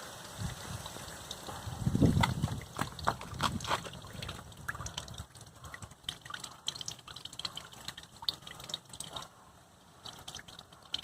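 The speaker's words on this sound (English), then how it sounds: "The radiator is still draining with the clear water." Coolant and clear flush water drain from the radiator of a 2005-2015 Toyota Tacoma, a soft trickling, splashing flow that is louder early on and then settles into a quieter steady dribble with faint background noise.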